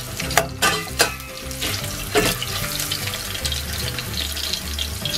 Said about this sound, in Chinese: 先把辣油加进去，加入姜片翻炒， 翻炒它，把它炒香。